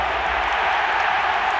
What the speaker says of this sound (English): Oh, the crowd loves that one.